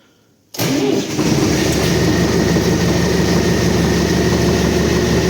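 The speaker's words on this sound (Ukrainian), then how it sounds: "Стартер так і не зробили. Треба міняти. Ну, заводиться." Tractor diesel engine fired up after new fuel-injection pump work, despite a starter still needing replacement, catching abruptly from silence into a loud, steady close-up idle with a dense mechanical clatter.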